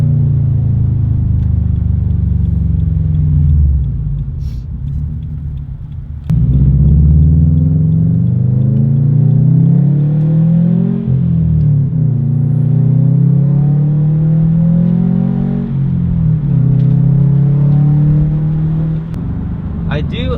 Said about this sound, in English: Oh, it revs so much faster now.